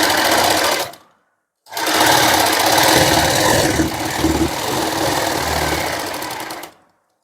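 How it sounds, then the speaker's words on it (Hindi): An electric sewing machine stitching a half-inch seam on a suit, running loud and close in a steady mechanical whir, stopping briefly, then running again for several seconds before cutting off, with no talking. "आधा आधा इंच की सिलाई हमने इस तरफ भी लगाई"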